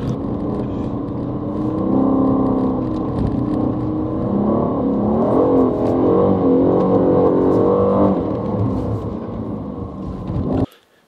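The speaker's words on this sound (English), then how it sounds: "The aim of the game, apparently, is to put this brand spanking new Vantage sideways for as long as possible." A 2019 Aston Martin V8 Vantage sliding sideways on a track, its engine holding a loud sustained drone with rising and wavering revs before cutting off abruptly near the end.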